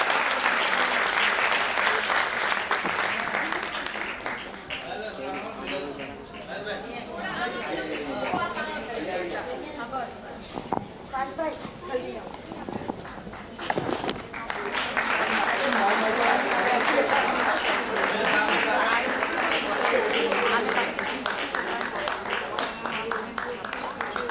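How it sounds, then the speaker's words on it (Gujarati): An audience applauds at an award ceremony honouring top board-exam students: sustained dense clapping rises, softens into mixed clapping and murmured chatter midway, then swells again strongly to the end. "જોરદાર તાળીઓથી બતાવો"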